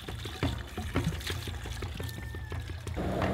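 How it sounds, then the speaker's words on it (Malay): Water poured and rinsed inside a bamboo tube used for cooking lemang, a continuous splashing trickle with scattered knocks and clatters, steady and close throughout. "Bahagian luar buluh akan digosok manakala bahagian dalam pula dibilas dengan air."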